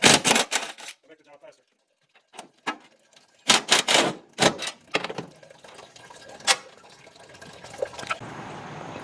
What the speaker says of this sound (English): And so I'm using my cordless impact.